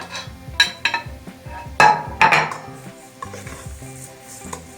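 Spiced minced meat with black pepper, garlic, basil, lovage, paprika, marjoram and salt is stirred in a bowl with a metal utensil, giving repeated close clinks and scrapes against the dish in an irregular rhythm.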